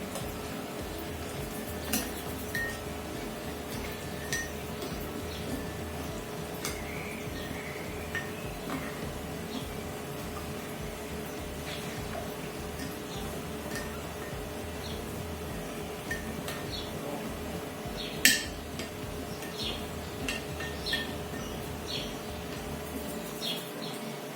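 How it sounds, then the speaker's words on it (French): Faint spoon clinks against a bowl as a salt-and-oil marinade for braised pork chops is stirred, with occasional soft scrapes and birds chirping quietly in the background. "Et je remue."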